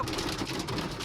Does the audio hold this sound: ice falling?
yes